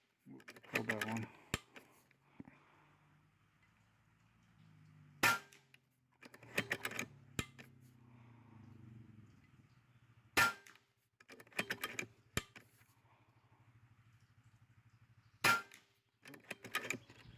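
Huben K1 air rifle firing pellets, four sharp, loud cracks spaced a few seconds apart, with quieter mechanical clicks and handling noise between them and a low background hum.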